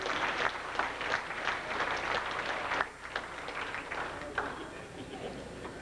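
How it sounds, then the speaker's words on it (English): Audience applause at a 2006 Dakota State Fair Speedway racing banquet: a steady, dense wash of clapping that fills the room for several seconds, easing off slightly partway through. "Big round of applause for Chris."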